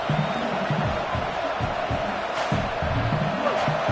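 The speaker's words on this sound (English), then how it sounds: "Listen to this crowd just shaking the girders of this place, trying to help their defense." A large stadium crowd at a football game roars in a dense, constant wash of noise, with shouts and whoops rising from the mass of voices.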